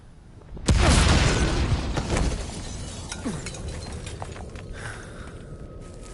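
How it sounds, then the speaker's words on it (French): Explosion at a hotel in Mafia: Definitive Edition, a sudden loud blast followed by shattering debris and crackling that slowly fades, then scattered smaller impacts and a faint mechanical tone. "Il y a des tirs et une explosion signalée à l'hôtel Corleone."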